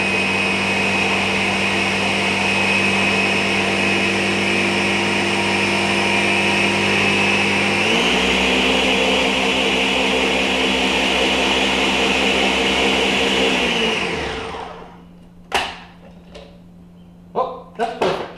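A blender whirs loudly and steadily, shifting to a different speed partway through, then winds down and stops, followed by a few clunks and knocks.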